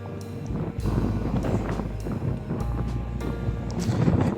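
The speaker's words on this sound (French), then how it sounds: "Il y a vraiment du vent, quoi." Strong gusty wind buffeting a microphone beside Lake Geneva, loud roaring rumble with repeated surges and no voices.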